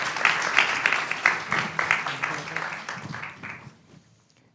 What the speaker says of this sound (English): let's give them a round of applause to everybody